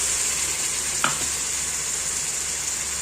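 Ginger-garlic paste with green chili and pepper paste sizzles steadily in a pan of frying onions for chicken korma, a constant bright hiss with one brief louder spatter near the start.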